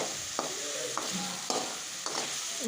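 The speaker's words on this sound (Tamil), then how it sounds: "நல்லா பாருங்கள் தக்காளி நல்லா வதங்கி வருது" Tomato and onion frying in oil in a pan for an anchovy fish kuzhambu, a soft continuous sizzle punctuated by periodic scraping stirs of a spoon against the pan.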